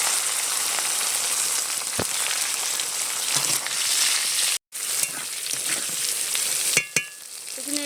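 Peeled potatoes frying in oil with dried chillies and cumin for a vegetarian dish, a loud, dense, continuous sizzle close up, broken by a brief dropout and a few clinks.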